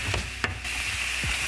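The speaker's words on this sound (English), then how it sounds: "With the livers, We're just looking for a light sear." Chicken livers given a light sear in a pan, a steady soft sizzle that runs through the whole moment, with one brief clatter near the start and a low thump toward the end.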